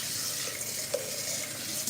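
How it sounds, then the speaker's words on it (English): A cooking pot being washed under running water, with a steady splashing hiss and a couple of faint knocks, close and without talk. "I am washing my pot so we can go ahead and make this porridge."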